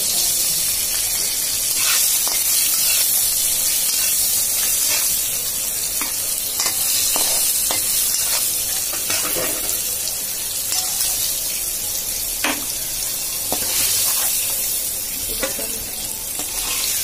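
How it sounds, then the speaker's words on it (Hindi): Flour-coated fish frying in hot oil, a loud, continuous bright sizzle with crackling pops scattered throughout, close and steady with no talk. "फिर इसके बाद इसे तेल में फ्राई करना है"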